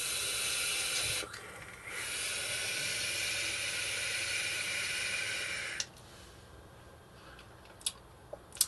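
A Chalice IV squonk mod by MarkBugs firing its coil at 23 watts with the airflow open, a loud steady airy hiss lasting several seconds, a brief dip in the middle, then cutting off to quiet with a few small clicks.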